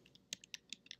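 Quiet, close keystrokes on a computer keyboard as a search is entered on Etsy, about half a dozen crisp clicks in an uneven rhythm.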